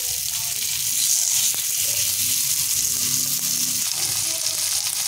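Prawns fry in oil on a tawa with a loud, dense, continuous sizzle that sits close and steady throughout.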